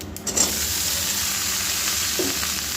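Malabar spinach stems and vegetables dropped into hot oil with five-spice seeds in a wok, a loud steady sizzle after a brief clatter at the start, close and continuous, no speech.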